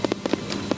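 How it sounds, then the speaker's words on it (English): Fireworks bangs at a night display over Canal Park in Akron, Ohio, during a rainy ballgame: a quick run of sharp, fairly loud pops and booms over a steady background wash. "Quite a backdrop for the sparklies, the booms, and the bangs"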